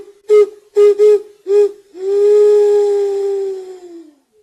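A globular flute carved from a deer skull, voiced like an Andean quena, plays four short breathy tones and then one long sustained note that slowly fades, loud and clear with no talking.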